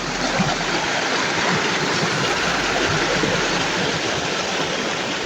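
Creek water rushes steadily close by, a dense and unbroken wash of flow that stays even and loud throughout, with no voices.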